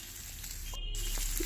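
Small shallots, cut rather than left whole, sizzle steadily in a pan while being sautéed for sambar, a continuous near hiss with a couple of soft clicks and no talking.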